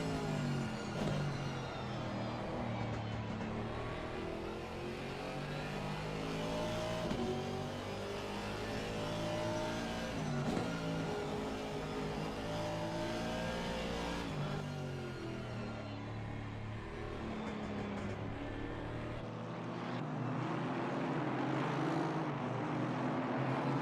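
GT4 race car engine on an onboard lap at Zandvoort in a sim racing game, a steady loud drone that rises and falls with gear changes and revs throughout, with no talk over it.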